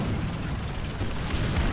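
Artillery shells land in a War Thunder tank battle, a dense continuous roar of booming blasts and rumbling impacts that fills the whole short stretch loudly, with no pause between hits.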